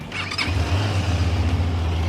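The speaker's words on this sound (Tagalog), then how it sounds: "pagka in-on mo yung engine, ayan, ma-check na natin yung kanyang tunog" A QJ Motor SRK 550 motorcycle engine catches with a brief squeal of the starter, then settles into a steady, throbbing idle close up.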